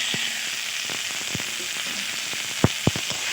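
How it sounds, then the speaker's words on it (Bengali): Fried radish pieces go into a pan of cooked-down spice paste for a Bengali radish ghonto, with a steady soft sizzle under sharp clacks and scrapes of a spoon stirring, two louder knocks near the end. "এবার আমি এতে অ্যাড করে দিচ্ছি ভেজে রাখা মূলো"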